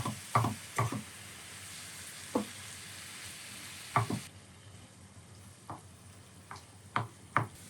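Meat with spices fries in a pan with a soft, steady sizzle, broken by several sharp clicks and knocks from stirring.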